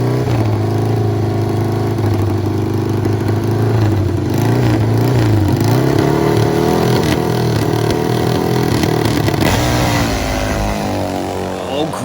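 A nitro Triumph and a Harley-Davidson motorcycle race side by side on a drag strip, their engines roaring loud and continuous for the whole stretch while a commentator talks over the noise.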